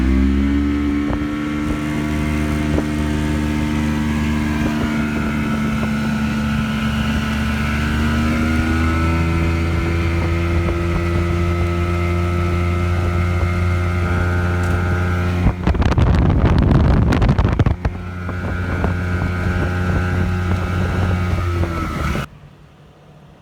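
A vintage lake boat's engine runs under throttle on Wheeler Lake, a loud, steady motor drone with rising pitch, a burst of wind and water rush in the middle, then the engine cuts off abruptly.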